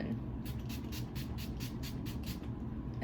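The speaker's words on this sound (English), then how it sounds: "I want to spray my face with setting spray first" A series of about ten short, rapid bursts of makeup setting spray onto a face, close and hissy, repeating in a quick even rhythm over a low background hum.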